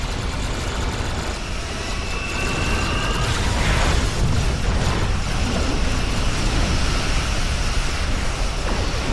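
A spaceship's new weapon firing and exploding in the Star Trek Online space game, a dense, loud, continuous roaring blast with rumbling low end and some brief whooshing streaks, sustained for several seconds with no voices.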